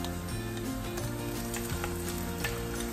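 Ginger garlic paste sizzles in hot oil with browned fried onions for a mutton liver masala, a steady close frying hiss running without pause under a faint musical background.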